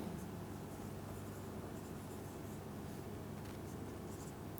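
Marker or chalk writing on a board during a physics lesson on electromagnetic induction, a steady scratchy scrawl running continuously and fairly quietly through the whole stretch, with no talking over it.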